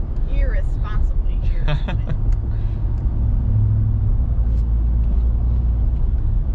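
A 2021 Ram Rebel TRX pickup's engine and exhaust give a heavy, steady low rumble, heard from inside the cab while people talk over it.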